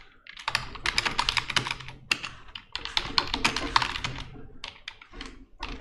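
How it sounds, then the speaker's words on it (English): Rapid clicking keystrokes on a computer keyboard while a message is typed, bursts of close, crisp taps with brief pauses between words, no talking. "So I can suggest it by typing a message"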